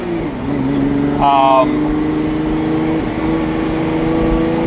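A 2019 Porsche 911 Speedster accelerating, its engine note climbing in pitch through a brief surge and then settling into a sustained drone, heard from inside the car with voices present.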